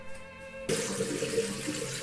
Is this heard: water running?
yes